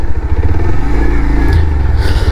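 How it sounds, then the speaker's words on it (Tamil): A Bajaj Pulsar 150 motorcycle runs close by with a loud, steady low exhaust drone and a slight throttle swell midway. "ஒரு நீட்டான சைலண்ட்டான ஒரு எக்ஸாஸ்ட் நோட்டு."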